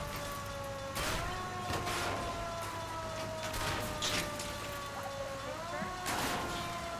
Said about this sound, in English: Put on the siren.